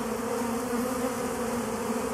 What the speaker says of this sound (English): These are mainly returning bees